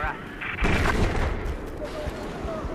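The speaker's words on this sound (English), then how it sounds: "Why is everybody shooting over here?" Gunfire rattles in a Battlefield 4 multiplayer match, dense booming shots and distant bursts layered into a loud continuous battle roar.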